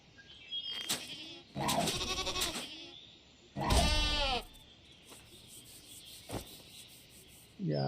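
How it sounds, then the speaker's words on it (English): A goat in the video game Wild Terra II bleats several times in short, separated bursts, fairly close, with quiet gaps and faint rustling between the calls. "Now there's a goat."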